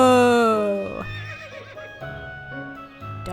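A horse neighs loudly in the video game To the Moon, a long descending whinny followed by softer snorts and shuffling, with brief bursts of voice over the end.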